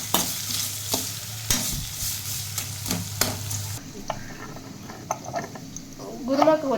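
Onions sautéing in a pan with a little rock salt for a cauliflower kurma, with soft sizzling and a few sharp scraping stirs of a spoon against the pan, and a voice talking over it.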